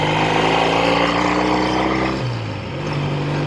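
A 1965 Triumph T100 SR motorcycle engine drones loudly and steadily while riding, then the revs drop with a gear change partway through and settle into a lower, even hum.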